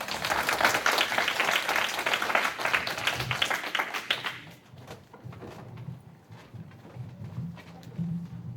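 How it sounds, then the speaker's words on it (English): Audience applause greets presenters at a slam poetry event, a steady wash of clapping for about four seconds that fades out, leaving quieter room sound and a voice beginning to speak. "Please give them a round of applause."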